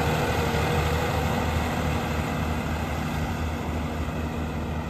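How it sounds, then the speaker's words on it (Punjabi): A tractor engine runs steadily in high gear at about 1400 rpm while tilling a field for potato planting, giving a continuous, loud, close droning hum with no pauses. "ਪਹਿਲੇ ਹਾਈ ਚੱਲਦਾ 1400 ਚੱਕਰ 'ਤੇ, ਆਰਾਮ ਨਾਲ ਚੱਲੀ ਜਾਂਦਾ ਏ।"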